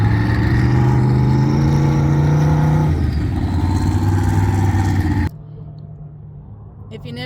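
Red turbocharged dune buggy revving at the Glamis sand dunes, a loud droning engine with rising and falling pitch that cuts off abruptly near the end, leaving quieter rumble, with people talking nearby.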